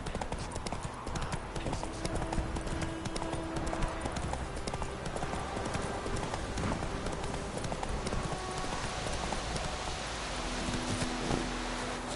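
Horse hooves clip-clop steadily in The Witcher 3, a continuous trotting rhythm over a wet, rustling outdoor ambience with faint rain, the hoofbeats close and moderately loud with no talk over them.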